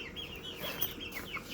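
Young hens raised for eggs cluck softly, with short warbling calls repeating close by over a low, steady background.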